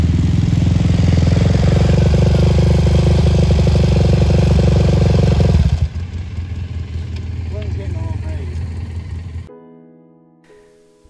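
A Big Bear off-road vehicle's engine drones loud and close on a trail ride, holding a steady rumble, easing to a lower hum partway through, then cutting off near the end.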